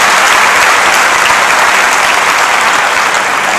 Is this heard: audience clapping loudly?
yes